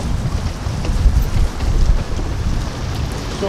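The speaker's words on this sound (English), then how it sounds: "It's been so windy." Steady wind buffeting the microphone on a boat, a Brig Navigator 730 with an Oxe Diesel 150 HP outboard, a low rumbling roar that gusts in waves throughout, with no voices.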